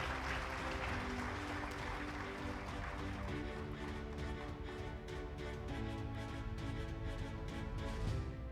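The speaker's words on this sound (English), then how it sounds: "can we have a round of applause for each one of them" An audience at a felicitation ceremony at India Habitat Centre in New Delhi applauds, a steady patter of clapping over a sustained tonal background that holds throughout.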